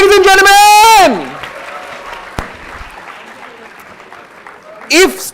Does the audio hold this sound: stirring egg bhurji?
no